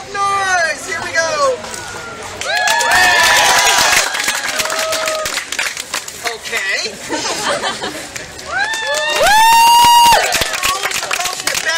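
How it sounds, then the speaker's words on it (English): An audience at a live show erupts in a burst of clapping mixed with high excited shrieks and cheering voices, dipping briefly before swelling again into loud whoops near the end. "clap up, applaud, and make lots of noise"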